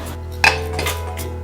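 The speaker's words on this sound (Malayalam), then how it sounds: "ഇനി നമ്മളിതെല്ലാം കൂടി കുക്കറിലേക്ക് മാറ്റാൻ പോവുകയാണ്" Rice and chutney mixture being moved into a pressure cooker, with a single sharp metallic clink of a utensil against the pot followed by faint scraping and handling noises over a steady low hum.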